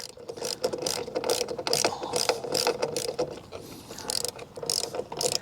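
A small wrench ratchets a bolt tight while a Jeep Wrangler Mopar soft top is installed, giving quick, repeated clicking strokes that are close and fairly quiet.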